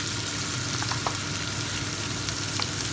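Onions and peppers sizzle and crackle steadily in a hot pan, a constant close frying hiss with occasional small pops.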